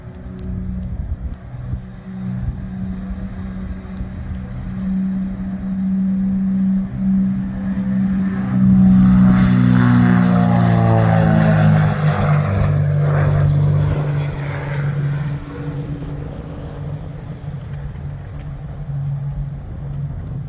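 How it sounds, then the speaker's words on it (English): A Cessna 421C twin-engine airplane takes off, its loud steady engine drone swelling to a roaring peak midway, with a rising pitch sweep as it passes, then easing back into a continuous rumble. "Let's see this thing take off."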